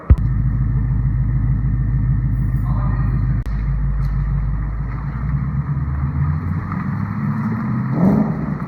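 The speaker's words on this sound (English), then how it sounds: "you will be able to see this vehicle leave our lot for the last time" A Ford Mustang 670R pulls away from a dealership lot, its engine rumbling loud and steady close by, with a deep low throb that fades slightly as the car moves off.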